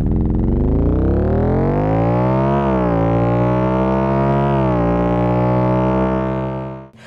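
Droning synthesized road and engine tone from the 16-bit racing game Hard Driving, one steady buzzy note that rises and dips in pitch, loud and unbroken for about seven seconds before fading.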